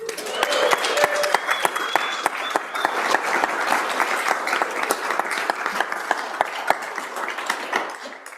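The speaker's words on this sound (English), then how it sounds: "Let's give Deanna a round of applause" An audience on a state senate floor gives Deanna a dense, sustained round of applause, many hands clapping steadily at a loud, even level for several seconds.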